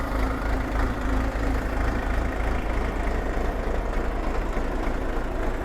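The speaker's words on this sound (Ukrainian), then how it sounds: "Зараз ви чуєте, як працює двигун." A Jinma 404 SNU tractor's diesel engine idles steadily close by, a low, even chugging rumble with no voices and no change in pace.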